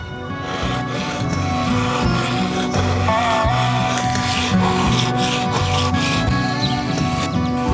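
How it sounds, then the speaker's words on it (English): Steady abrasive rubbing with a gritty rasp, continuous and close, a back-and-forth scrubbing texture of wet sanding with sandpaper on a sailboat king plank, with no voices. "I am changing to wet sanding paper"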